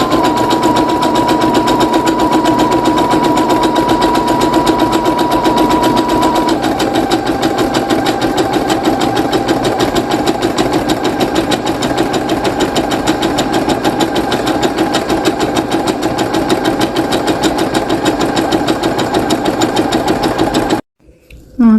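A sewing machine set to a stretchy zigzag stitch runs at a steady, fast, loud mechanical whir for about twenty seconds while stitching fabric for a bow, then stops abruptly.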